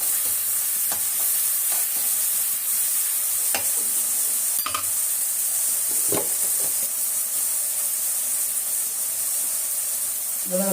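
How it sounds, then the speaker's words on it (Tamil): Onions sauté with salt in a pan, giving a constant sizzling hiss throughout with occasional soft clicks and scrapes of stirring. "வெங்காயம் வதங்கணும்னா கொஞ்சம் உப்பு போட்டுக்கலாம்"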